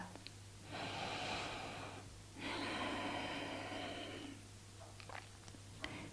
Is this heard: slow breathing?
yes